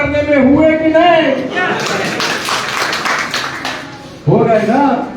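An audience clapping at a district executive meeting of a pan traders' federation in Samastipur, a burst of applause under and between loud speech from a man addressing the crowd.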